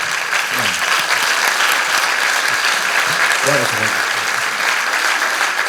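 Sustained, dense applause from a concert audience after a Greek song performance fills the whole stretch, with a few voices briefly audible beneath the clapping.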